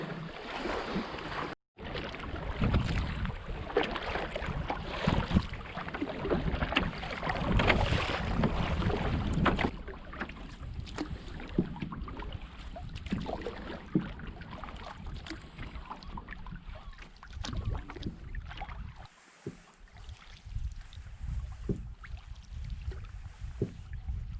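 Gusty wind buffets the microphone in uneven roaring bursts over Big Trout Lake in Algonquin on a sunny day, rising and easing, with faint lapping underneath and no talking.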